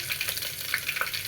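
Steady sizzling and crackling of ginger garlic paste frying in a hot pan, with faint stirring, no voices.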